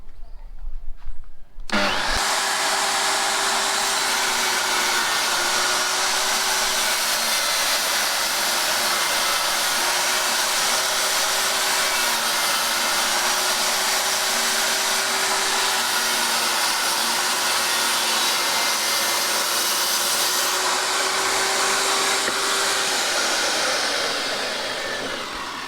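A power saw cuts lumber for a bee box, starting abruptly and then holding a loud, continuous high whine for over twenty seconds with a slight pitch wobble, then fading out near the end.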